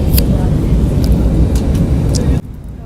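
Airplane cabin noise as a plane starts landing, a loud steady low engine and air roar filling the cabin that drops away abruptly near the end, with a voice briefly talking over it.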